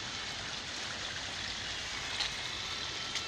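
Running water from meltwater streams after a hailstorm in Tomsk, a steady broadband rush that stays even and close throughout, with no voices.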